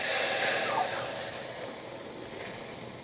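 Milk hisses and sizzles in an overly hot pan, a steady close steamy crackle that gradually eases off, with no talking.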